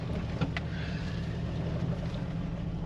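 A steady low engine rumble from a 1999 Jeep Wrangler with a destroyed Dana 35 differential, reversing, idles on with little change, plus a faint brief clatter near the start.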